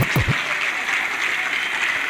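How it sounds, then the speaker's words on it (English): An audience at a hackathon event claps for a one-man team. The applause is steady and fills the room, with a brief voice at the very start. "please make some noise for the one-man squad"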